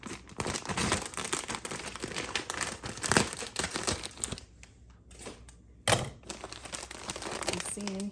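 A plastic mushroom grow bag is cut and pulled open, giving close crinkling and tearing plastic with a sharp crack partway through, followed by quieter rustling.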